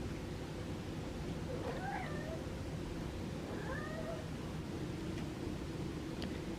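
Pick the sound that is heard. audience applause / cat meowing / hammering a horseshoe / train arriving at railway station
cat meowing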